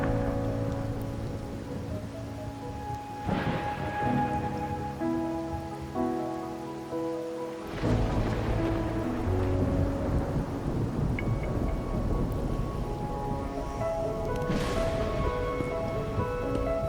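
Rain and thunder in the video game Wuthering Waves, steady rainfall pattering on surfaces with several rolling thunder booms over a soft music score.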